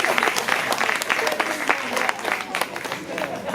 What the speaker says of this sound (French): On a applaudi pour ça.